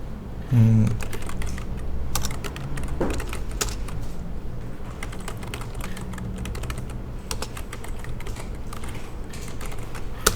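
Brisk typing on a computer keyboard while entering text in AutoCAD, a steady run of close key clicks with a few firmer presses of the Enter key and no speech.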